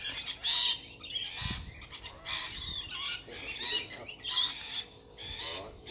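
Rainbow lorikeets squawk and screech in a pair of jacaranda trees, a dense, loud chorus of harsh overlapping calls in repeated bursts from a large flock close by.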